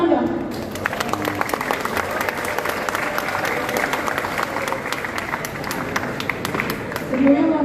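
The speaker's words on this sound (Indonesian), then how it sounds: "Tepuk tangan dong." A crowd of students and guests claps loudly at a high school graduation send-off ceremony for twelfth-grade students, steady dense applause lasting several seconds with a slight swell at the end.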